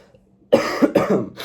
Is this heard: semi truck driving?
no